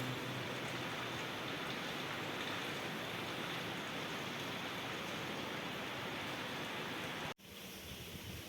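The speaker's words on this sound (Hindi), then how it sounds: "बहुत जोर वर्षा हो" Heavy rain falls in a steady, dense hiss, unbroken for several seconds apart from a brief dropout near the end, with no voices over it.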